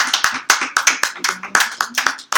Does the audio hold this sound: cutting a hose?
no